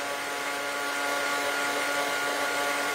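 A heat tool drying an art journal page blows with a steady, close whirring hiss and a faint tonal whine, unbroken from start to finish with no talking.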